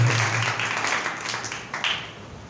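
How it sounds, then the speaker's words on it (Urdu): A church congregation claps loudly together, a dense wash of applause that starts full and gradually thins and fades, with a brief swell near the end. "ذرا زوردار تالیاں بجا دیں"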